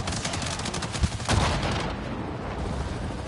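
A heavy bow grenade fired in the video game Avatar Frontiers of Pandora gives one loud, broad blast that swells out of dense, continuous combat noise and then fades back into it.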